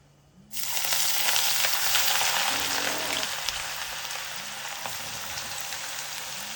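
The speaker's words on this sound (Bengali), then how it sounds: "পেঁয়াজটা ভাজতে একটু সময় লাগে" Onions frying in a hot pan over a high flame, a steady loud sizzle that starts abruptly after a moment of quiet and holds throughout, with a few faint stirring scrapes.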